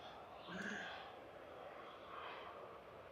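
Iberia Express airliner taxiing at Manchester Airport, bound for Madrid, gives a broad, steady jet-engine roar close by that swells slightly and then settles, with faint breathy sounds near the microphone.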